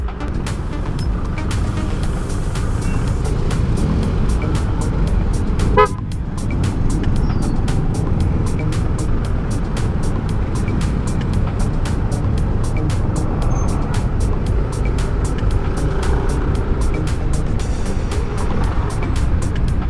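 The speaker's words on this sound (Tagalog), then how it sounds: "Mabigat na ang traffic dito sa Fairview." Heavy road traffic in Fairview gives off a steady, loud wash of engines and tyres that runs the whole time, with rapid ticking and a brief horn-like tone partway through.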